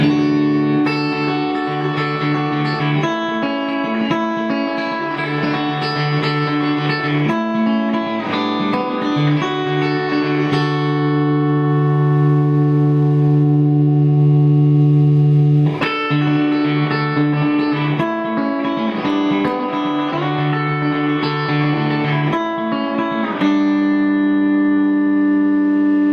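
Electric guitar driven through a Fallstaff germanium treble booster pedal with the guitar volume rolled back slightly, sustained chords and notes ringing with mild grit and reverb, loud and continuous with no talking.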